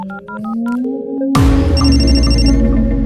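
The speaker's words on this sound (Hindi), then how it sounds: "कबीर को फोन करो।" In a Hindi film scene, a phone call is placed: a few short dialing beeps and a tone come first, then a loud, bright ringtone melody starts suddenly and keeps ringing.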